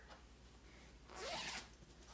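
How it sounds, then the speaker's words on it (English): A single zipper on a pillow cover pulled open in one quick, close rasping stroke, with quiet room noise around it. "There is another zipper."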